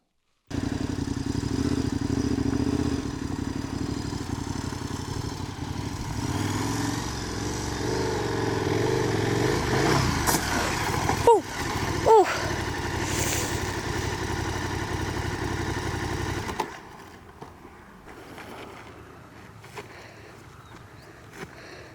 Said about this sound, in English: here is a little excerpt of him displaying his enormous dirt riding talents moments before that high-speed run